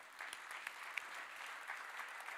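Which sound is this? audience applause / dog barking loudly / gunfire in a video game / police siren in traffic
audience applause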